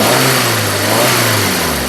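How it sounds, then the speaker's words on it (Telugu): 2022 Maruti Suzuki Swift Dzire VXI petrol car engine revving up and holding, a loud, steady mechanical roar close by with no talking. "ఇంజిన్ యొక్క నాయిస్ కూడా చాలా సైలెంట్గా అయితే ఉంది"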